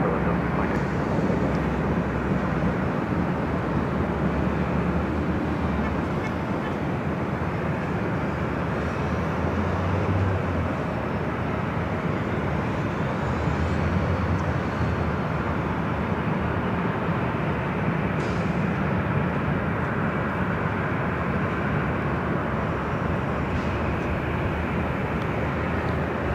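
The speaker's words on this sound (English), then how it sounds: "Delta Airlines flight 622 heading to Austin, Texas. 737-900ER heading to 24 left." A Delta Air Lines Boeing 737-900ER jet at Los Angeles International Airport heading for runway 24 left, its engines a steady, unbroken roar of broadband noise with no talk over it.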